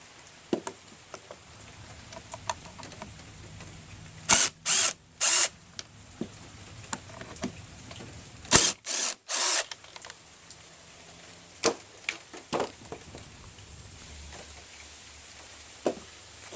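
A power drill backing screws out of the carburetor on a Troy-Bilt TB110 push lawn mower: two clusters of short, close whirring bursts separated by a quiet stretch of faint handling noise, with no talking.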